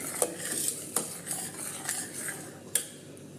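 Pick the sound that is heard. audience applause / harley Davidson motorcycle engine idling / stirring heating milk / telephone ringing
stirring heating milk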